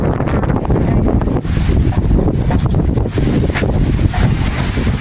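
Strong wind from Super Typhoon Leon buffets the microphone in loud, rough gusts in Abulug, Cagayan, roaring continuously with surging bursts and no one speaking.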